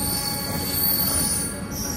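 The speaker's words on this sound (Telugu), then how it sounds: "ఇది ఇప్పుడే విజయవాడ స్టేషన్ నుంచి బయటికి అయితే వచ్చింది" A double-decker train rolling out of Vijayawada station, heard as a steady loud rumble of wheels on rails with a high, continuous squeal running throughout.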